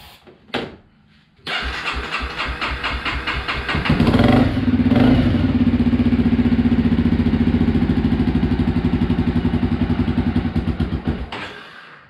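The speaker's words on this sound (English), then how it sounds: "Now let me show you that it runs with some starting fluid." A Honda CBR 300R motorcycle engine cranks briefly, then fires on starting fluid and runs with a loud, steady idle that swells around four seconds in and holds close and alone before fading at the end.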